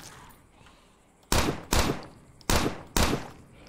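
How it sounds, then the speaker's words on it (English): Four loud, sharp pistol shots fire in the State of Decay video game, spaced irregularly over a few seconds after a quiet stretch, each with a short decaying tail and no talk over them. "Man, that pistol sucks."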